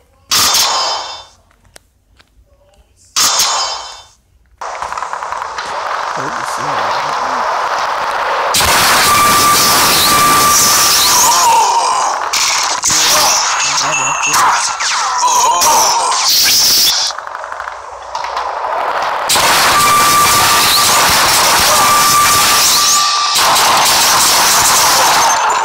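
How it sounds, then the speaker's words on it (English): Revolver gunshots in a video game mission, a series of loud sharp blasts with metallic clangs, spaced irregularly with short quiet gaps early on, then denser bursts of firing. "today we'll be playing 3 rounds of missions using the revolver."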